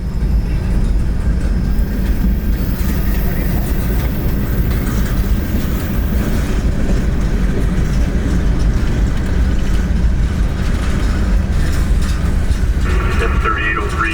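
Freight train 0719 with box cars backing in at a level crossing with the gates down, a steady loud rumble of rolling wheels and engine throughout, with faint clicking toward the end.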